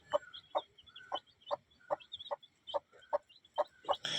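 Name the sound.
newly hatched chicks and hens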